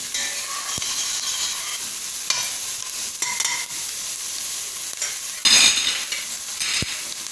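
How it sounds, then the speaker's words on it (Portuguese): Garlic frying in a pan until golden makes a steady, close sizzle, with occasional utensil clinks and scrapes as it is stirred. A louder burst of crackling comes near the end. "Vou deixar ele fritar até ele ficar bem amarelinho."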